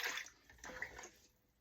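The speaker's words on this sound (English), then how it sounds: "Pour it in the cup." Liquid poured into a cup, a short splashing trickle, close and moderately loud, fading toward the end with no talk over it.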